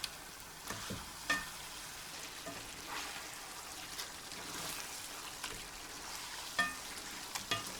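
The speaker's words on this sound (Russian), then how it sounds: "Теперь обжарим морковь до изменения цвета, пока она не станет мягкой" Carrots frying in a kazan for the Uzbek dish mashkichiri, a steady close sizzle with occasional stirring scrapes and light pops throughout.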